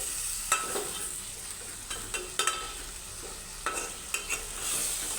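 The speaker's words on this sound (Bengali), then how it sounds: "সুন্দর করে কষিয়ে নেব।" Vegetables with sidol and pangas fish sautéed in a pan, with potato, pointed gourd, beans and tomato: a continuous loud frying sizzle broken by several sharp spatula scrapes and clatters, close and without talk.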